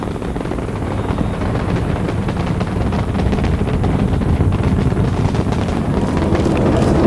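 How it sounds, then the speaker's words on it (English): Space Shuttle Endeavour's engines roar during the STS-49 launch as the orbiter climbs through maximum dynamic pressure with engines throttling down. A loud, steady, broadband rumble holds for the whole stretch with no voices. "Endeavour's engine throttling down now as the orbiter passes through the area of maximum dynamic pressure on the vehicle in the lower atmosphere."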